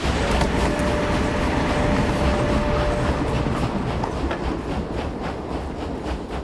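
A train rolls along its rails in Indiana Jones and the Great Circle, a loud, close, continuous rumble with rhythmic clickety-clack from the wheels and a brief steady tone near the start, with no talk.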